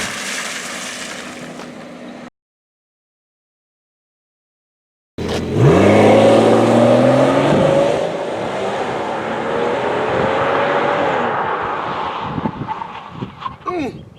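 A Rolls-Royce is driven hard. After a few seconds of quiet, a loud engine roar climbs in pitch, then settles into a sustained rumble that tapers with some faint knocks at the end.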